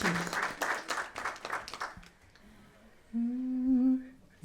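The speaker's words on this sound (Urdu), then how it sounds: "زوردار تالیاں ہونی چاہیے" Applause and clapping from an audience at a ghazal performance for about two seconds, fading out, followed by a sustained sung note.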